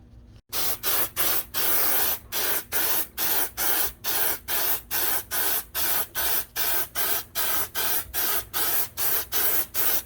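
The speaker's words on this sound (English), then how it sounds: "I'm gonna get to spraying, see what it looks like." Repeated bursts of aerosol spray hissing in short, evenly spaced pulses as coating is sprayed onto a cracked RV skylight, close and fairly loud, with no talking.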